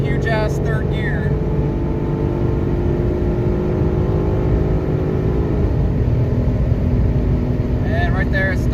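A tuned Mustang 3.7 V6 with an SCT X4 tune pulls hard in third gear, its loud, steady engine drone climbing gradually in pitch as it accelerates, heard from inside the car.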